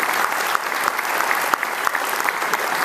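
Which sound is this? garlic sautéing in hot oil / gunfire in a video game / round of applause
round of applause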